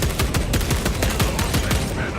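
Rapid bursts of gunfire from the Space Marine 2 video game crackle in a dense, steady stream of overlapping shots, loud and continuous throughout the whole moment.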